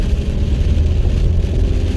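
A Peugeot 407 SW estate car driving on a damp road, a loud steady low rumble of engine and road noise from inside the cabin, constant throughout with no voices.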